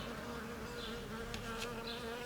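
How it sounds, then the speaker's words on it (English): A bee hovers near garden flowers, a steady close buzzing drone that holds throughout with slight shifts in pitch, no voices. "Oh, I have a bee coming."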